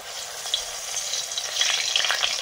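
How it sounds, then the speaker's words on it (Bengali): A koi fish head fries in mustard oil with salt and turmeric, a loud close crackling sizzle with dense popping spits that grow busier toward the end, no voices. "হলুদ, সরষের তেল, এটা যাচ্ছে কই মাছের মুড়ো"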